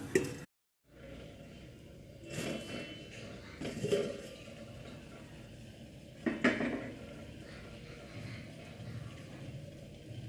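Metal kitchenware clinks a few times at moderate volume, with clanks of a lid settling onto a pot of boiling herbal decoction amid low kitchen background noise.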